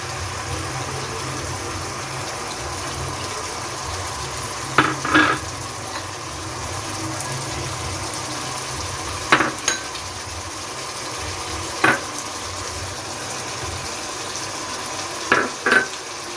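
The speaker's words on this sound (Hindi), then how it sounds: "अब हम अपने वेजिटेबल्स को थोड़ी देर फ्राई करेंगे।" Chicken and mixed vegetables stir-frying in a pan for Chinese-style pasta: a constant close sizzle broken every few seconds by short, sharp clatters of a spatula stirring against the pan.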